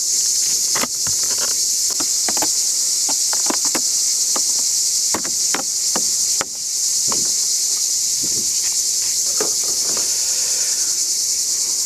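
Honey bees swarm around an open beehive in an apiary, making a steady, hissy buzzing drone throughout with scattered faint clicks and taps near the frames.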